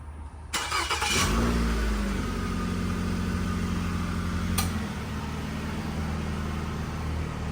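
A 2007–2012 Nissan Altima starts by remote start: a short cranking burst, then the engine catches with a brief rev and settles into a steady idle hum close by.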